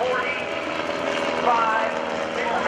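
Engine of an aerobatic propeller airplane performing an eight-point hesitation roll at the 2012 NAS Oceana airshow, a steady loud drone with slight pitch shifts as it maneuvers, an announcer talking over it.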